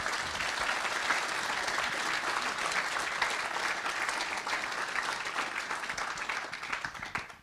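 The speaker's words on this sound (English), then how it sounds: "So huge round of applause and thank you for the Drupal Association for them" A conference audience at a DrupalCon closing plenary in Sydney claps in a long, dense round of applause for the Drupal Association. The applause stays steady and then tapers off sharply at the end.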